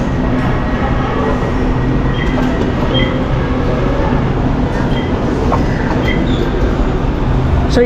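A crowded LRT light rail train pulls into a city station platform with a steady, loud mechanical roar and rumble, faint wheel squeals and clicks scattered through it, continuous and close.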